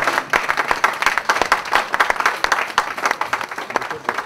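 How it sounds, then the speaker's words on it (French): Wedding guests clapping together at a celebration, a rhythmic burst of applause with sharp, uneven hand claps at moderate distance, with voices faintly mixed in. "Nous acclamons pour la gloire de Jésus-Christ."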